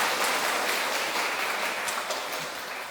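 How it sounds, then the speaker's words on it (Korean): A church congregation applauds after a choir's hymn performance, producing a dense, steady wash of clapping that fills the whole stretch and eases off slightly toward the end. "다시 한번 박수할까요?"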